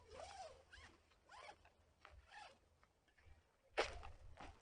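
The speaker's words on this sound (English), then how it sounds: "I'll go ahead and zip this back up" A hammock zipper is pulled shut in several short, quiet zipping strokes, ending with one sharper, louder pull near the end.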